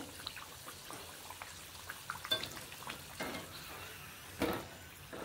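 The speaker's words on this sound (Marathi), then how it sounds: "थोडंसं अशा प्रकारे आपल्याला तेल उडवत राहायचे." Faint, steady frying of traditional Satara-style ralyachi sajur, a foxtail millet and jaggery sweet, in hot oil, with soft crackles and occasional louder spatters as oil is splashed over it, heard alone.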